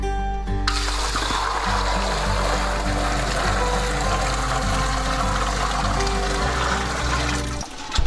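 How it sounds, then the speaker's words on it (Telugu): Ten litres of water poured into a large pan over a stove for sarivi leaf tea, a loud, steady gushing stream that runs almost without pause and stops near the end. "తర్వాత 10 లీటర్ల నీటిని బాణలో పోసుకోవాలి."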